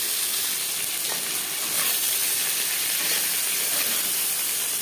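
A hilsa fish head fries in a pan with a steady, close, loud sizzle and hiss, with a few faint scraping clicks mixed in and no voices.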